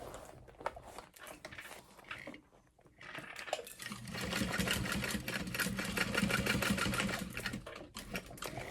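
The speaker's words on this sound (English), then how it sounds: "And I just need to sew right here." A sewing machine stitches a small fabric clutch wallet, running in a steady, continuous burst after a short pause, close and loud with no talking.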